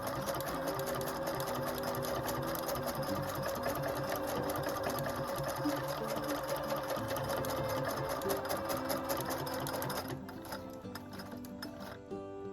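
A Husqvarna Viking #1+ sewing machine stitching fabric runs with a loud, steady rapid mechanical chatter for about ten seconds, then stops, leaving a quieter whir and light ticking.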